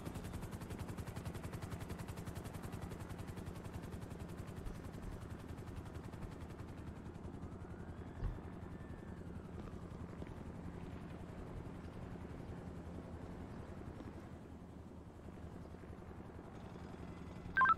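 Helicopter lifting off in a video game roleplay, with a continuous rotor drone and whine running steadily at moderate distance, a brief thump midway and a faint rising tone, no talk.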